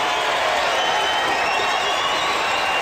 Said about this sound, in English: Crowd's getting riled up.